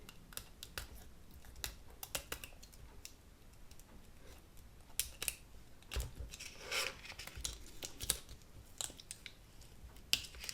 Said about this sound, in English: I'm going to use my weeding tool and grab a corner and slowly peel away